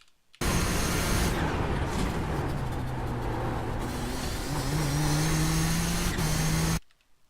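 A race car engine holds full throttle in iRacing at Zolder, a steady loud drone whose pitch climbs through gears, starting and cutting off abruptly, with no voices over it.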